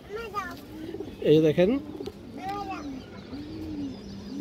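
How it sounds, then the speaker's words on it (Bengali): An old pigeon coos in a few rounded, wavering calls close by, while someone speaks briefly over them. "এই দেখেন পুরানো কবুতর"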